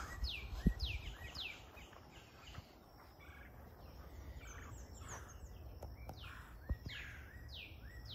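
Birds sing among big trees in a garden, with repeated clear chirps and trilled song phrases coming from a moderate distance over a low outdoor background.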